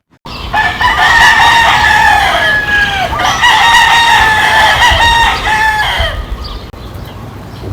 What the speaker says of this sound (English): What the heck are these roosters doing?